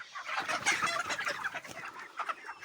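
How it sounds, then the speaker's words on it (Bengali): Broiler chickens on a poultry farm clucking in a busy overlapping chorus of short calls, moderately close and fairly quiet, with no talk. "সম্ভবত মুরগিগুলো সব গরমে শুয়ে আছে।"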